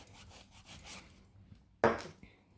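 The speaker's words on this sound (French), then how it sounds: "on lime droit" Nail file shaping gel nails, heard as soft rubbing strokes up close, followed after a short pause by one louder, sharper scrape.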